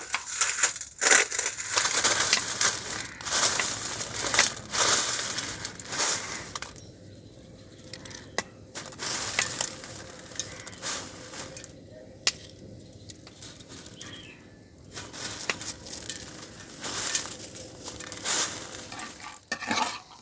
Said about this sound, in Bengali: আলতো হাতে চেপে কিন্তু এগুলো একটু ভেঙে দেব